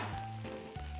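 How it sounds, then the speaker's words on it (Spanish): A splash of vinegar hits a hot pan and sizzles loudly and steadily at close range, a dense hiss with a low tonal hum underneath and no voices. "Y ahora, chorro de vinagre."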